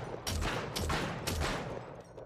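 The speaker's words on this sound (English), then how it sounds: "So you just have to be able to point and shoot at what you want to hit." Dual-wielded guns fired in the VR game After the Fall, three quick bursts of gunfire in close succession, punchy and near, with no talking.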